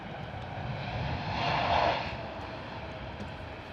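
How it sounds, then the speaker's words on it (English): A Cargolux Boeing 747 departing Stansted Airport, a broad roaring jet rumble that swells to a peak midway as the aircraft passes nearby and then slowly fades, steady and unaccompanied by speech. "Wow, what a graceful departure from the 747"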